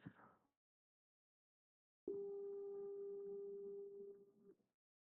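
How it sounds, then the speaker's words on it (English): After a short silence, a clean, steady synthesized sine wave tone sounds for about two seconds at an even pitch, then cuts off. "I usually start with a little sine wave, sound something like this."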